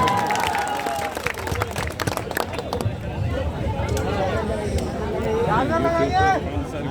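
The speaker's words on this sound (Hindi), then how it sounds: "एक बार जोरदार ताली बजाइए" Clapping from a gathered audience at a Hindi-language exam-coaching session, a loud wash of hands mixed with crowd noise and scattered voices, with speech rising over it in the latter half.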